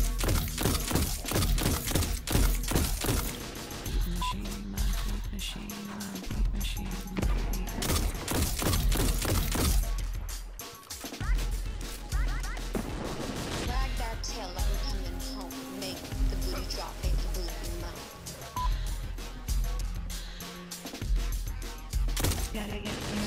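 Rapid gunfire in the video game Destiny 2, dense bursts of shots and sharp impacts crowding the mix for long stretches, then sparser sounds with game effects and faint voices.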